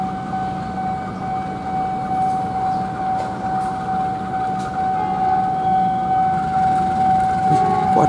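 The Airlangga passenger train, hauled by a vintage AC locomotive with panoramic cars, passes at moderate distance with a steady rumble and a sustained high tonal whine running throughout, no voices.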